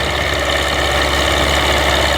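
A YUMZ-6 tractor's diesel engine runs close by, its exhaust giving a loud, steady, throbbing rumble that holds level the whole time with no voices.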